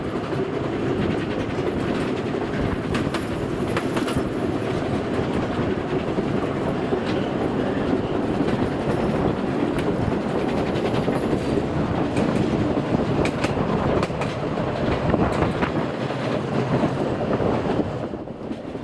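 The Fichtelbergbahn train crosses the Huntenbachtal viaduct near the end of the line, a continuous loud rolling rumble with steady clickety-clack of wheels and faint squeals, no voices.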